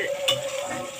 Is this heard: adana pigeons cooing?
no